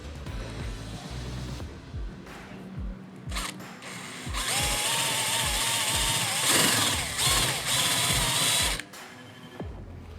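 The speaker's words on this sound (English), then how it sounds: "we're just gonna use our power drill" A power drill whirs in short bursts, then runs longer as self-tapping screws drive in while fitting motorcycle saddlebag lids, with clicks and a ratcheting rattle between runs, close up.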